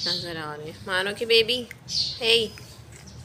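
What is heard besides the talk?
bird chirping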